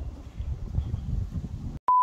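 A short, steady electronic beep tone sounds alone after a stretch of low, muffled rumble, clean and fairly loud as a single sustained bleep.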